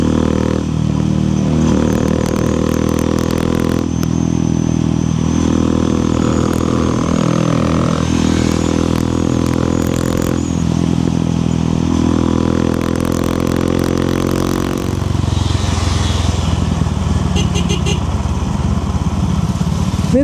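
A motorcycle cruising at around 90 km/h on a Sunday group ride drones loud and steady up close, with engine pitch shifting as it changes speed and wind rush underneath.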